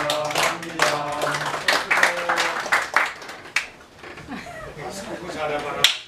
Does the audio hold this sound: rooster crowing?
no